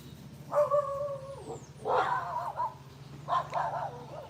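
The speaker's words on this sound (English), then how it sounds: "when one dog bark, everybody barking." Dogs bark and yip in three distinct bursts, fairly close, with short pauses between them over a low steady hum.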